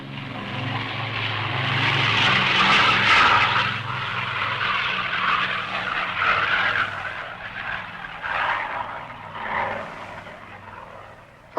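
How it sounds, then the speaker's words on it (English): A loud, sustained roar of aircraft engines builds and holds during takeoff, steady and broad with gradual swells, and no speech is heard. "Finally, time for takeoff."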